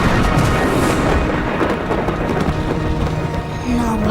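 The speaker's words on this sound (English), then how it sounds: "Oh dear, it's raining." Thunder rumbles steadily under continuous rain, a dense broadband storm wash that stays loud and even for the whole stretch, with a faint tonal hum near the end.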